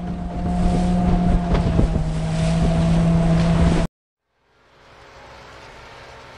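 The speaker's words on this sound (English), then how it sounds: "Ship." A ship's engine drones steadily on the water with a constant hum and wind rush, then cuts to silence before a fainter, airier wash of noise returns.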